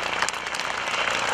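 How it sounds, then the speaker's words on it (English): Brief burst of applause from an airshow crowd outdoors, dense steady clapping heard up close and alone. "how about a big round of applause for Gary Ward and the MX2?"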